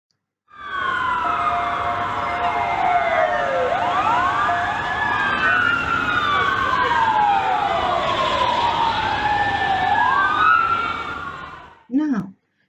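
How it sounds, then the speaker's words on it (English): Ambulance siren wailing loudly and continuously for about eleven seconds, rising and falling in sweeping tones, then cutting off abruptly. "Now, can you hear there is a siren?"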